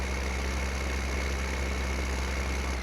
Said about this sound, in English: this tractor would probably be the faster tractor to pull the seeder, so a little Zetor Major 80 there